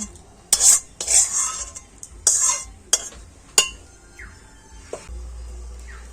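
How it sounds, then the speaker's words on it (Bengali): A spoon stirring coconut chutney in a metal bowl, giving a handful of sharp clinks and scrapes spread over a few seconds, close and clear with no talking. "আর এবারে চামচ দিয়ে ভালো করে মিশিয়ে নিতে হবে"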